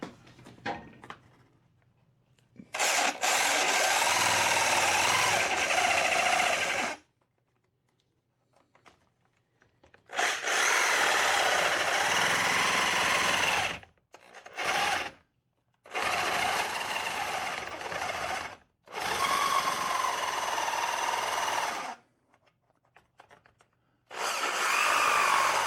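A power saw fitted with a metal-cutting hacksaw blade grinds through sheetrock and paneling in several long, loud buzzing runs with short silent gaps between them.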